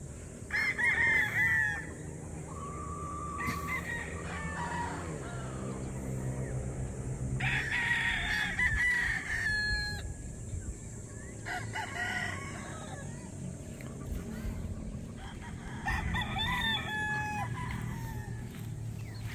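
Roosters on a chicken farm crow repeatedly, loud and near, with several long cock-a-doodle-doo calls spaced through the stretch over low clucking and farmyard background noise.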